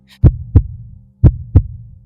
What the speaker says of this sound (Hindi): राघव का दिल तेजी से धड़कने लगा